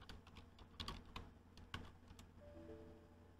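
A password is typed on a computer keyboard: a short run of quick, light key clicks, quiet and close, with no voices.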